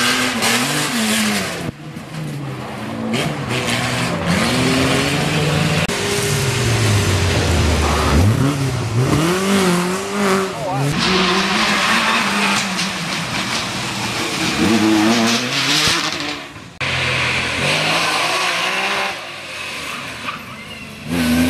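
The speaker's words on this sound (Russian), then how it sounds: "организаторы устроили лесное ралли, где зрители могли увидеть, на что способна подобная техника" Rally cars tearing along a forest rally stage, engines revving hard and rising and falling in pitch as they accelerate and shift, loud and continuous with brief dips between passes.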